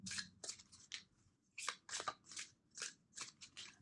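A deck of tarot cards is shuffled by hand in a series of quiet, quick papery riffles and snaps, about a dozen short bursts in uneven rhythm, close and soft with no talk.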